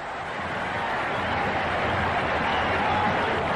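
Cricket crowd at a 1993 Sri Lanka v India one-day international, a dense, steady roar of cheering and applause that stays loud and unbroken throughout.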